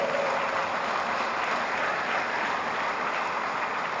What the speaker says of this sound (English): a big round of applause for all the delegates that are present here